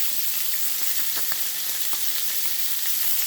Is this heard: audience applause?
no